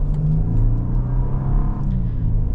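A 2026 Nissan Armada driving, steady low engine and road rumble from inside the cabin, continuous and fairly loud with a slight rise in pitch.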